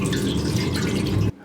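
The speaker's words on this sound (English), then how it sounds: "we're gonna fill up the water pan" Water pours steadily into the water pan of a Pit Boss Brunswick vertical smoker, a continuous close splashing stream that stops abruptly.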